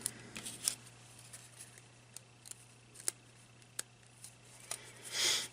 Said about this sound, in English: Gonna punch out those flowers, and I'm gonna attach those to my card